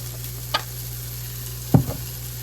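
Plant-based sausage browns in a little oil in a pan, with a faint steady sizzle and a couple of brief scraping stirs.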